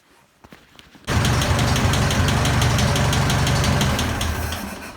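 A Massey Ferguson 65 tractor engine catches after a few faint clicks and settles into a loud, steady rhythmic idle close by, chugging evenly with a slight fade near the end.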